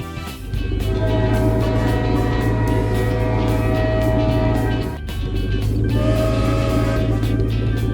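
A steady, loud rumble of an animated cartoon train rolling along, with sustained low droning tones and a brief dip in the middle before it resumes.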